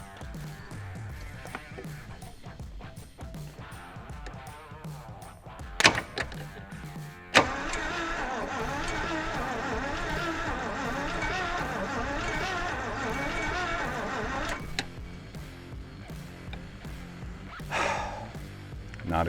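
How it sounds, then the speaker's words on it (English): Abandoned 1976 Jeep CJ5 with a new starter, engine cranking over slowly and laboriously in a long grinding rhythmic churn, close and steady, with brief louder clunks and a pause between cranking attempts. "So we put the new starter on, and unfortunately it is still turning over slow"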